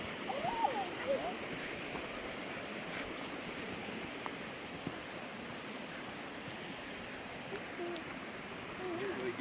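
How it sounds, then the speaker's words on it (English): Steady broadband rush of a waterfall beside a creek on a campground hike, continuous and fairly even throughout, with a bird call or brief voice faintly above it. "It is a waterfall, you see?"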